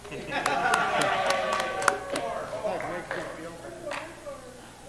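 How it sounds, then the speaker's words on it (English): Scattered audience clapping at a talk, with sharp individual claps over a murmur of voices and talking that dominates as the applause thins out. "You can applause now."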